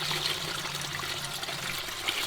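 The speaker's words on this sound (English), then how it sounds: "we're draining all the water out of this thing and we're gonna put coolant in it for the winter" Water draining from the cooling system of a Supra with a Hellephant engine swap, a steady trickling and splashing flow, continuous and moderately close, with no talking.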